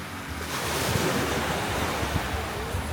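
Surf rolling onto the beach at Flic en Flac in Mauritius, a continuous loud wash of waves with heavy wind buffeting the microphone throughout.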